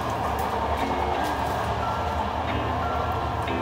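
A steady, loud rumble fills the inside of a moving train cabin on a Slovak route toward Bratislava, with a constant low roar and faint rattling and no talking.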